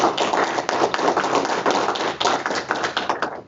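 An audience at a regular school board meeting claps in a steady, dense round of applause filling the room, nearby and fairly loud, with no talking over it.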